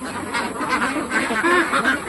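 A flock of pet itik ducks, including laying females, keeps up a loud, close chorus of overlapping quacks and honking calls with no pause.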